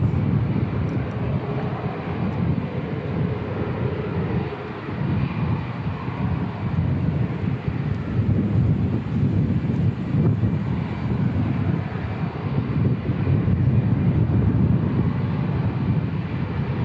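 A Fiji airliner passes overhead near Christchurch Airport, around Rolleston, giving a steady, loud, broadband engine roar with a low rumble that holds for the whole stretch, with no talk.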